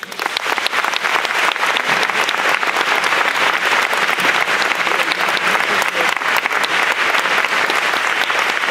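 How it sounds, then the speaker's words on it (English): An audience at a talk on reproductive freedom breaks into sustained, dense applause, a loud, even roar of many hands clapping that carries on without pause. "Please give them a round of applause."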